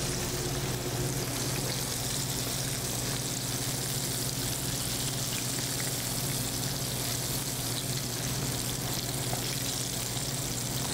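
Fish fillets frying in hot oil give a steady, dense sizzle that holds unchanged throughout, close and fairly loud with no voices.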